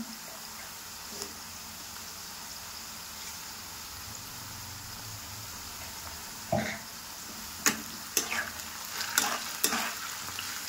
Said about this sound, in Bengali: এখন এটা বেশ করে একটু ভেজে নেব